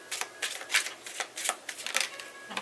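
A deck of tarot cards is riffled and shuffled close up, producing a fast series of crisp papery flutters and slaps in several bursts over a couple of seconds, moderately quiet with no talk.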